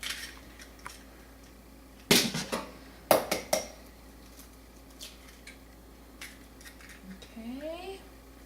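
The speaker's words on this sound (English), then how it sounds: "we're going to crack 2 eggs" Two eggs are cracked into a baking dish for a breakfast omelet, heard as a few sharp, close taps and clicks around the middle, with quiet kitchen handling between them and a short voiced squeak near the end.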